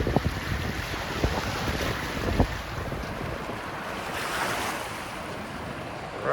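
River rapids rushing in the New River Gorge below a bridge, a steady broad roar of moving water with wind buffeting the microphone, continuous and fairly loud, no talking.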